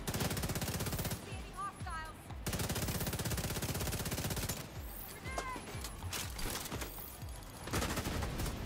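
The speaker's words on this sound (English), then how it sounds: "Really annoying that they're shooting me from over there." Rapid automatic gunfire in The Division 2 rattles loud and dense almost throughout, with sustained bursts, brief lulls and the ring of shots in a firefight.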